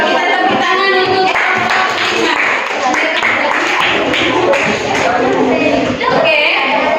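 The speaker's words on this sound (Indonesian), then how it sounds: "kita tepuk tangan untuk" Classroom of students clapping for a group of classmates, steady scattered applause lasting several seconds, close and loud, with talk and chatter running underneath.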